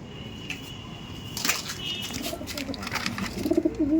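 Pair of pigeons being released, soft cooing and a burst of wing flutter with light wooden knocks, close by over a low background hum, no talking.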